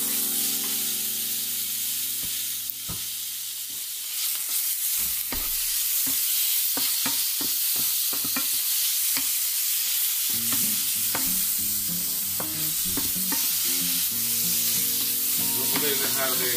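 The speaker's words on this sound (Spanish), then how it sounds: "Pues ahora voy a echar mi carne." Sirloin beef frying over high heat in a hot pan with mushrooms, a steady loud sizzle and hiss throughout, broken by repeated scraping and clacking strokes of stirring close up.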